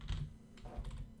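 Close, quick keystrokes on a computer keyboard, several taps clustered in a short burst, fairly quiet and with no voice over them.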